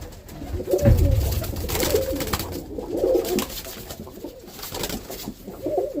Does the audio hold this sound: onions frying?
no